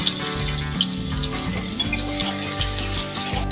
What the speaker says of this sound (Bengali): পেঁয়াজটা হালকা ভাজা হয়ে এলে